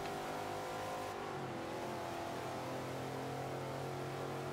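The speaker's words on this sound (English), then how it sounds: "the Ford GT40, in my opinion, probably the best race car ever made" A Ford GT40 race car engine in the racing video game Forza 5: a steady, loud, buzzing engine drone held at high revs, with a brief shift in pitch near the start, alone without talk.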